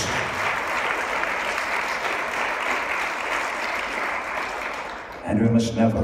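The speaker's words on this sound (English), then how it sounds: "how about a round of applause to all of our veterans" A crowd at an Elvis tribute show applauds veterans steadily for about five seconds, the clapping fading as a voice starts over the last moment.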